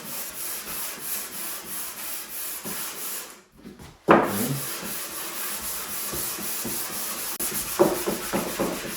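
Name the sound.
sanding a wooden dresser with sandpaper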